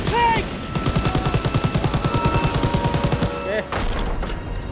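Rapid bursts of Call of Duty: WWII gunfire crackle in quick succession, loud and rhythmic, with brief pauses and layered effects, plus some talk in Thai underneath.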